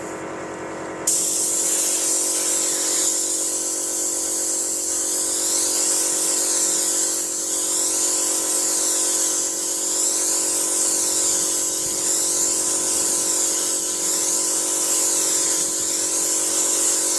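A spray gun hisses steadily and loud for the whole stretch, laying a double header coat of 2K paint onto a scratched car panel, with no talking.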